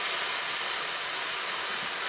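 Crabs sizzling in a pan with onion and green chilli, a steady dense hiss of frying that holds evenly throughout without pauses or voices.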